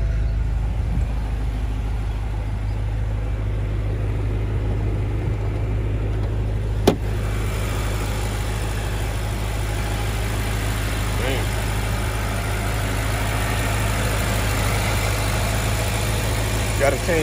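A 2014 BMW M5 engine idles under the open hood with a steady, smooth low hum. A sharp click sounds partway through, and someone speaks briefly.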